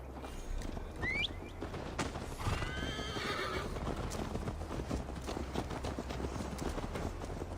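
Galloping horse from the game Assassin's Creed Valhalla, steady hoof clip-clop running throughout with a clear whinny and neigh early on, under a continuous ambient bed.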